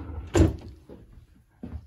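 A bathroom drawer under a sink slides and bumps with a short wooden knock, followed by a couple of softer clatters as it settles, close by and quiet otherwise.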